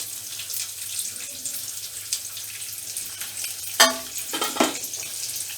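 Urad dal, white lentils, frying in hot oil gives a soft, steady crackle and hiss, broken by a few sharp clinks and scrapes of a spoon or pan near the middle, with no one speaking.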